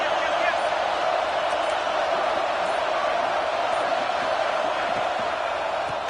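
A packed college football video game stadium crowd roars steadily and loudly, a dense unbroken wall of cheering with no individual voices standing out.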